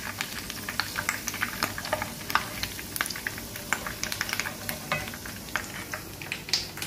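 Curry leaves crackling in hot oil alongside crispy jackfruit snacks, with a steady sizzle broken by frequent sharp pops and spoon-stirring clatter, close and moderately loud with no talking.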